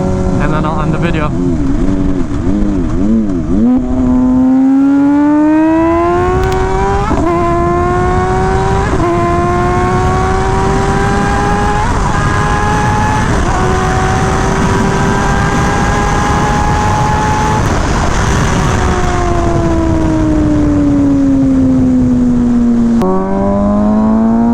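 A car fitted with a loud custom exhaust accelerates hard through several gears, its roaring engine note climbing and dropping at each shift, close and very loud for the full length.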